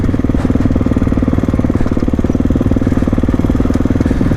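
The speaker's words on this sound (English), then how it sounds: "this is gonna be some good slow speed testing on the KX here" Kawasaki KX450X dirt bike engine chugging at low speed on a desert climb, a steady close-up thrum with rapid even firing pulses and no pauses.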